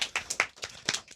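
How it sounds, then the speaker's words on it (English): A studio audience claps for a talk-show guest in a brief, loose scattering of hand claps, close and uneven, with no speech over it. "I tried to get everybody to get in on the applause"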